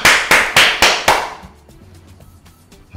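Five sharp, evenly spaced hand claps ring out in a home kitchen, each loud and crisp with a short decay, followed by near silence.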